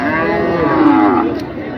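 A bull at a livestock market in Narayanganj lets out a single long, loud, close moo that holds steady for nearly two seconds.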